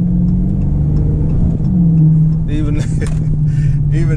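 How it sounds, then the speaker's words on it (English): A Dodge Charger R/T in sport mode, its engine droning loudly with a steady low rumble and a brief surge as it pulls away, heard from inside the car while someone talks over it. "Even now, the sport mode on level 5, this joint still snatching off."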